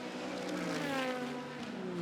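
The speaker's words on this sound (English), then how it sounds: "Watch out, the 8 car is coming from behind." Super GT race cars at Suzuka roar past on track, engines droning with overlapping rising and falling pitches as several cars pass close by in a continuous loud stream.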